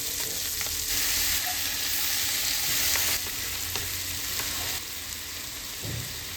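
Fish frying in a pan for a fish rasam, a continuous hissing sizzle close up with occasional faint clinks and stirring, no voices.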